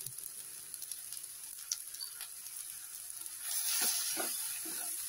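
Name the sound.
spices sautéing in oil: asafoetida, salt, turmeric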